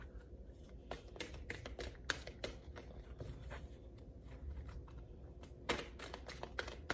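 Tarot cards are shuffled by hand close up, giving repeated quick papery riffles and taps in an uneven rhythm, quiet and with no voices.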